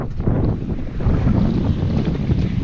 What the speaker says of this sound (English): Motor is turned off and I'm sailing, finally.